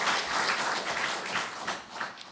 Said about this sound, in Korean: 자, 우리 박수 한번 쳐봅시다.